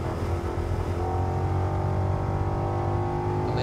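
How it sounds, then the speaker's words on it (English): A rear-wheel-drive Ford Mustang GT pulls away hard off the line with a little wheel spin, its engine roaring loud and rising steadily in pitch as it accelerates, heard on its own without talk. "So off the line, little wheel spin, up into third through the first corner"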